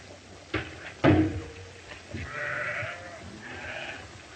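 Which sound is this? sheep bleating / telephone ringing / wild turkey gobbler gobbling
sheep bleating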